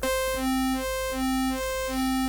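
An Arturia MiniFreak synth holds a droning tone while an LFO modulates a matrix parameter, making a lower note pulse on and off in a regular rhythm about three times. It sounds loud and close, with no voices.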